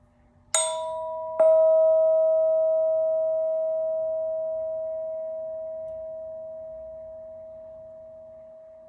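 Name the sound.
meditation bell ringing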